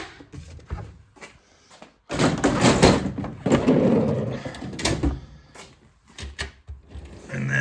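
A drawer on a US General 56-inch tool box rolls open or shut, giving a few close, sliding rumbles and soft thumps with quiet pauses between them.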